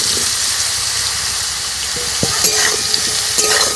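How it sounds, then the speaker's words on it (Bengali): Spiced mushrooms fry lightly in well-heated oil, a loud continuous sizzle with a few small clinks and pops toward the end, no voices. "এবার এই মাশরুমগুলো হালকা করে ভেজে নেব।"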